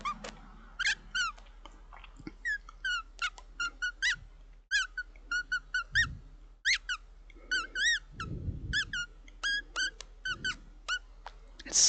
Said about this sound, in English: Squeaky Rat.